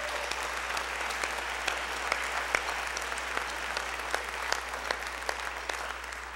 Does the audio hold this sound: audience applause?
yes